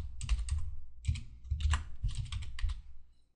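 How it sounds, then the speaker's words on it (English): Keys clatter on a computer keyboard as a folder name is typed into a field, several quick bursts of close, crisp keystrokes separated by short pauses, with no talking. "I will type that name in this field"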